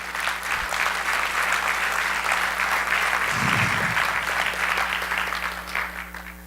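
A church congregation applauds steadily for several seconds, a dense wash of clapping from a large crowd with a faint low murmur partway through.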